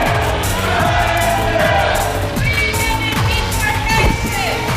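A debate audience shouts and jeers, a loud dense crowd roar of overlapping yells and whoops running continuously, with voices mixed in.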